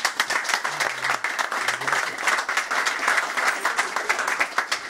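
A crowd claps continuously at the official launch of a presidential campaign rally for the Union Sacrée in France, dense applause that swells and stays loud throughout with a few faint vocal sounds mixed in.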